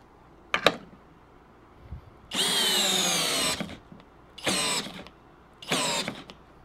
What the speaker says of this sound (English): Now I'll be doing a little skill 12-volt drill just to see how it stacks up.